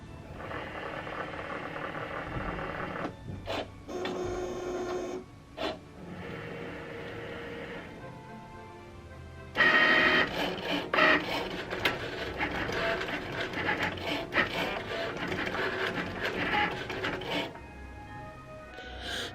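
A Cricut cutting machine cutting vinyl letters whirs and scrapes in short mechanical bursts with brief pauses, growing louder and busier in the second half; no one speaks.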